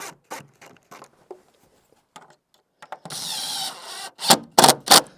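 A drill drives screws into a roof on a windy off-grid build, with scattered knocks and taps, then a roughly one-second whirring burst followed by several sharp, loud thuds near the end.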